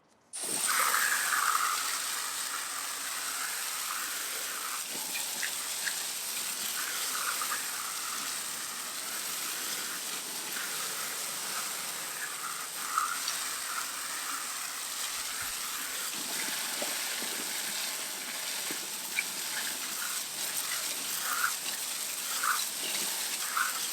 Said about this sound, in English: all that's left is hose it off